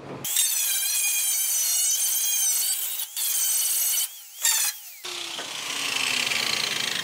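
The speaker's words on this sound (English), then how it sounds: "So we're going to take and smooth that out, prepare this surface, get rid of anything that's loose like that" Power sanding or grinding on the rusty steel floor pan of a 1980 Fiat Spider, a loud steady whine with short breaks and a rougher scraping pass at the end.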